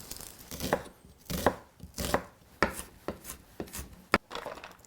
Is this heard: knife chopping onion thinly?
yes